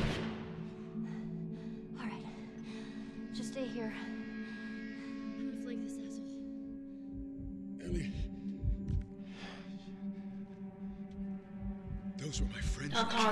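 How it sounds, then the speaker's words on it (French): A heartbeat thumps in The Last of Us, its low pulses throbbing faintly beneath a droning game ambience and background talk. "T'entends un cœur qui bat et tout."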